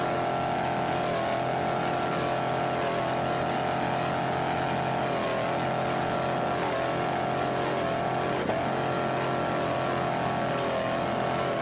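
Super V class racing powerboat Vortec Extreme at Daytona in 2006, a loud continuous engine roar that holds steady at high throttle with slight pitch wavers, close and alone with no talking.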